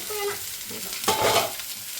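Onions sizzling and frying in a pan for a soybean roast, a short close crackle with a spoon scraping and stirring through it, no speech.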